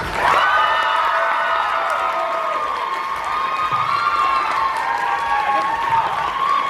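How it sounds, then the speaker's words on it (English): A round of applause from an audience at a skits and awards event: sustained clapping with some cheering and crowd voices mixed in, steady and fairly loud throughout. "Round of applause."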